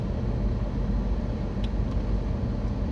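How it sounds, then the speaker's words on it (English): A car drives through an enclosed parking ramp, its steady low engine and road rumble echoing off concrete, continuous and close with no talking. "I always loved hearing my car in these ramps"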